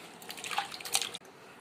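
Something is rinsed clean by hand in water, with splashy sloshing and drips for about a second before an abrupt stop, close and fairly quiet.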